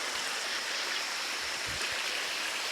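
Water streams over rocks near a waterfall on a hike outside Puerto Vallarta, a steady, close, full-bodied rush with no breaks and no voices.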